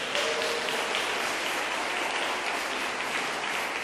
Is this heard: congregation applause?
yes